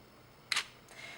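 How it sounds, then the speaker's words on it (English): A camera shutter clicks open, then about a third of a second later a softer second click closes it, a long exposure on a single-lens reflex camera heard alone and close. "That is indicative of 1 second, which is a very long time for a shutter to be open when you're taking photographs."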